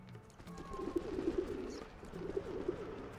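Pigeons cooing in the video game Sly 2: Band of Thieves, soft repeated low coos in two short bursts, fairly quiet over faint ambient game noise.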